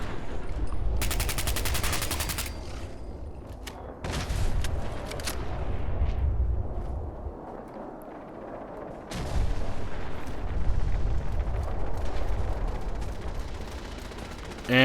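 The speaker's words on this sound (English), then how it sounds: "And here comes a nuke, I believe." A nuke blast in Fallout 4 running a Fallout 76 mod, with a loud sustained rumbling roar mixed with bursts of game gunfire that swell, dip briefly, and then surge again.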